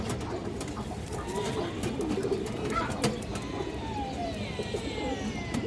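A pair of Muslodom pigeons coo low and continuously against a noisy, busy background, with scattered clicks and faint sweeping chirps, the calls murmuring steadily rather than standing out sharply.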